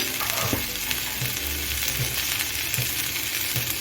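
Drumstick leaves frying in a pan with fish head, dried and green chillies, onion and garlic, giving a continuous close sizzle with soft rhythmic stirring scrapes.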